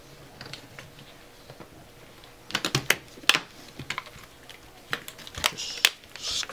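A plastic film panel is pressed back into a device and clicks into place. Scattered sharp plastic clicks and snaps come in uneven clusters, close and fairly quiet, with no talking.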